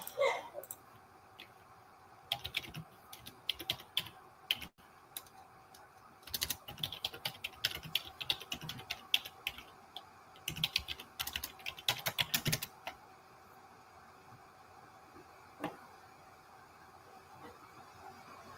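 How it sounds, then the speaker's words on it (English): Keys clatter on a computer keyboard as a question is typed, in bursts of rapid clicks with brief pauses, close and moderately loud, then trailing off into quiet near the end. "Let me just type the question."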